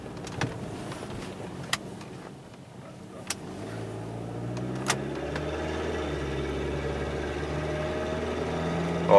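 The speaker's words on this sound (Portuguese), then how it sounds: "esse barulho tá muito ruim. Tá muito ruim mesmo, isso aí tira rendimento do motor" A 2011 Chevrolet Malibu 2.4 16v, or a 2010 Ford Fiesta 1.6 8v or 2001 Volkswagen Gol 1.0 16v, runs with a rough, unhealthy engine note while driving, a steady droning hum rising in pitch, with occasional faint clicks.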